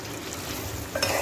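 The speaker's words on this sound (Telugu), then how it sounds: "ఓకే, ఒకసారి కలుపుకొని" Chicken curry stirred in a pan once the oil has risen, a short burst of soft scraping and gentle sizzling with a slightly louder scrape near the end.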